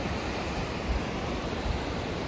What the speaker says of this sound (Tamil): ப்ரோ இப்பொழுது நாம் திருவான்மையூர் பீச்சில் உள்ளோம்